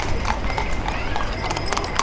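Horse hooves clip-clop steadily on the paved Blackpool promenade as horses and carts pass, with a dense, continuous rhythm of overlapping hoofbeats under outdoor crowd noise.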